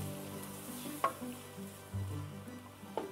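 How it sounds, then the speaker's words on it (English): Chili with pinto beans, Rotel and tomato sauce being stirred together in a pot, giving a low steady sizzle with a couple of sharp scraping clinks from the spoon, close up and without talk. "And now I'm gonna stir it all together."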